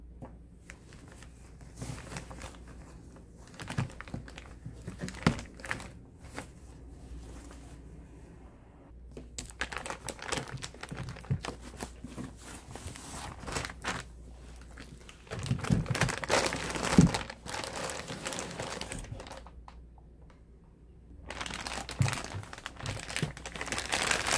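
Plastic rustles and crinkles on and off for a long stretch as a Cricut EasyPress 2 is pulled from a bag, close by, with louder bursts toward the end.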